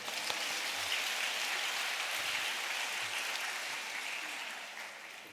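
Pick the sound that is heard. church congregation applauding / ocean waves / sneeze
church congregation applauding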